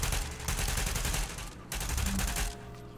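Gunfire in Tom Clancy's The Division, a loud continuous automatic burst of rapid shots that briefly pauses and then resumes, close and dense.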